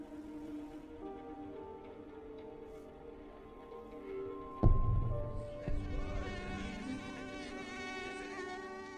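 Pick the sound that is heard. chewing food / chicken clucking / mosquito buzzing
mosquito buzzing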